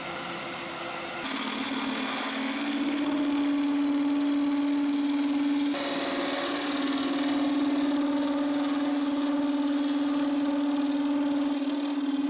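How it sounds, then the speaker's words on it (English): A Forstner bit spins into a hybrid burl on a woodturning setup, a steady motorized whine that shifts pitch as the cut begins and again midway, continuous and close throughout. "I love seeing all those nice thick ribbons coming out as I use my Forstner bits"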